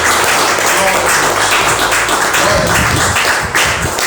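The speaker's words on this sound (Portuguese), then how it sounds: "Você pode aplaudir ao Senhor por essa palavra?" A church congregation applauding during a sermon, a dense, loud, continuous wash of clapping from many hands filling the whole stretch.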